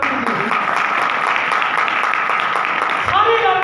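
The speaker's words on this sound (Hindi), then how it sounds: "पाठ साहब के लिए जोरदार ताली कीजिए" Audience applause for a scripture reader at a Hindi-language church service, steady dense clapping filling the room throughout, a voice breaking in near the end.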